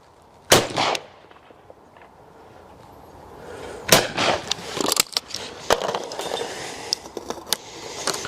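Shotgun blasts at clay targets outdoors: a sharp near report followed by several more loud cracks in quick succession, with some echo and no talk.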